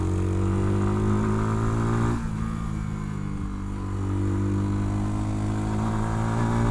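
A MASH 250 Black 7 motorcycle being ridden gives a loud, steady engine drone with a strong low hum. It dips briefly partway through, then carries on evenly.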